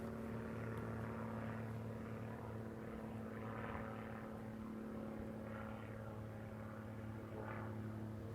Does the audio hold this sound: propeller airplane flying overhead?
yes